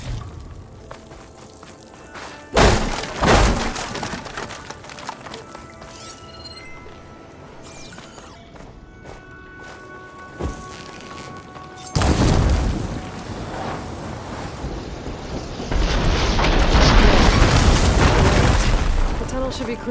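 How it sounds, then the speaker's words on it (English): Blaze barrels in Horizon Forbidden West blowing up after fire-ammo hits, several loud booms and crashes, including a sharp blast early and a bigger rumbling eruption later, over game ambience and music. "Hitting those blaze barrels with fire ammo should do the trick."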